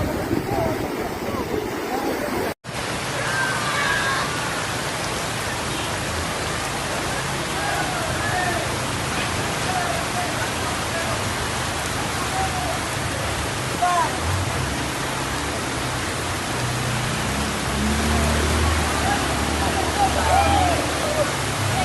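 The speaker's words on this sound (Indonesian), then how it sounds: "Hujan lebat disertai dengan banjir bandang." Heavy rain and flash-flood water in South Aceh rush in a loud, constant broadband roar that fills the whole stretch without letup.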